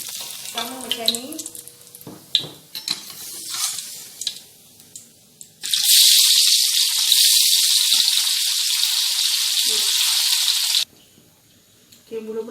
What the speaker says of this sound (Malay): Sekarang saya nak goreng tahu yang balance lagi, sama macam ni.